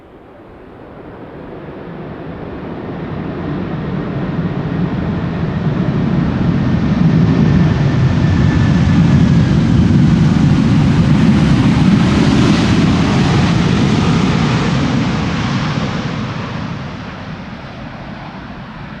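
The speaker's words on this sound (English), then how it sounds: "Not exactly the loudest of landings that we've seen from Delta A330s" A Delta Airbus A330-300, first flown in 2003, lands at Amsterdam Schiphol in crosswind conditions, a broad jet roar swelling from a distance to a loud peak mid-pass and then slowly fading, with wind buffeting the microphone.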